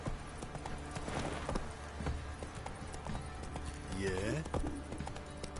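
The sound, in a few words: horse Roach hooves clip-clopping in video game Witcher 3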